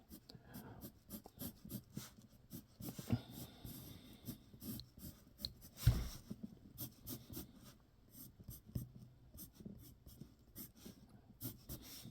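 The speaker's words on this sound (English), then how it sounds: "got a darker pencil. In this case, it's a Blackwing Pearl." Blackwing Pearl pencil drawing on paper, soft scratchy strokes in irregular short bursts, close and quiet throughout.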